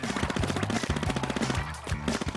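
Aerospray MG firing in Splatoon 2, a loud rapid stream of spraying weapon shots in continuous bursts with brief pauses, close and alone.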